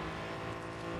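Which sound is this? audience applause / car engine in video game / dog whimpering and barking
car engine in video game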